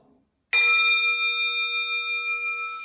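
A single metal gong or bell is struck once, giving a loud bright strike that settles into a long, steady, shimmering ring of sustained tones, heard alone after a brief silence.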